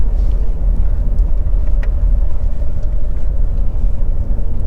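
An RV drives a mountain road in a blizzard at subzero temperatures, a loud, constant low rumble of engine and road noise with wind roar and no speech.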